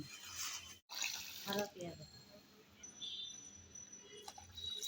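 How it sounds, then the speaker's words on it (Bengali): Water pours over two cups of sticky rice (bini rice) set to soak, a steady running splash with brief gaps, and a voice speaks partway through. "এখন পানি দিয়ে ভিজিয়ে রাখবো প্রায় এক ঘন্টার মতন"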